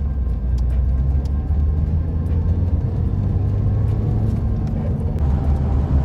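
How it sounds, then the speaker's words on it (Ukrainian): A car driving with the throttle opened up, a steady close engine rumble and road whir inside the cabin, holding continuous and loud throughout with no talk. "Поїхали. Зараз дамо газку, заодно ще й печка, подивимося, як робить."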